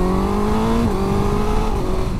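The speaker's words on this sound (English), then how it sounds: "Oh, that quick shifter is smooth." Suzuki GSX-S1000 GT motorcycle engine pulling hard under acceleration, the steady drone dropping in pitch at a quick-shifter gear change about a second in, then climbing again; loud and close with no talking.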